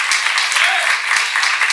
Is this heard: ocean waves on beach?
no